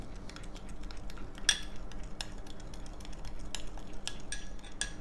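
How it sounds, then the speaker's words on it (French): A spoon stirs coffee, dissolved in a little water, into whipped cream with chocolate for coffee cookies, giving steady close scraping broken by a few bright clinks against the bowl. "On mélange."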